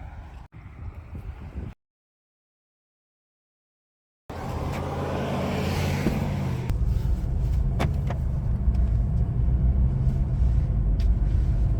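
A Mercedes car drives in comfort mode after a gearbox reset, a steady engine and road rumble building after a short silence, with faint clicks and subtle changes as the transmission shifts.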